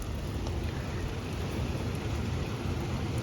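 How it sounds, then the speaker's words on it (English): Heavy rain pours down in a dense, steady hiss with a low rumble beneath, continuous and loud throughout with no voices. "it's really raining hard"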